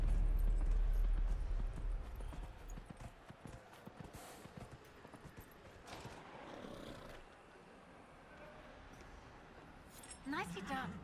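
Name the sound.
horse hooves galloping in video game Dragon Age Inquisition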